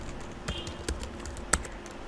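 Typing on a computer keyboard while entering tax form details, a handful of scattered light key clicks close by, with one sharper tap near the end over a low room hum.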